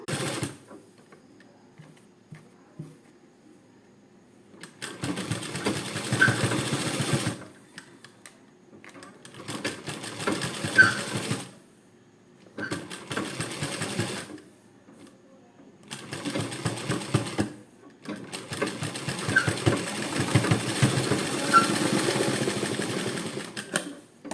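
A sewing machine runs in four separate bursts of rapid mechanical stitching, putting a 0.1 seam along fabric piping close to but not right on the edge. Short quiet pauses fall between the runs, and no one talks.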